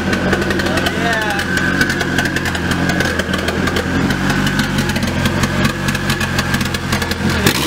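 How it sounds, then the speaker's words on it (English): A Nissan 240SX S14 idles on its own with a slightly rough, steady engine drone that holds loud and close without a break. "We just got the 240 to idle all by itself."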